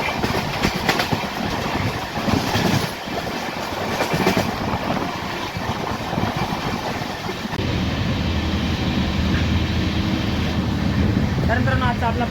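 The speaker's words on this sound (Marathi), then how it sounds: "एकदम जबरदस्त स्पीडमध्ये लोणी स्टेशन स्किप करत आहे सध्या आपली ट्रेन." Pune–Shirdi Intercity Express (11423) speeding through Loni station without stopping, heard from inside a second-sitting coach: a loud, steady rush of wheels and wind with rattling and clatter throughout, and the rumble deepening in the second half.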